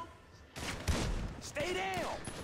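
Gunfire from Grand Theft Auto 5 during a shootout breaks out in two bursts of rapid shots, with a voice talking over the second burst.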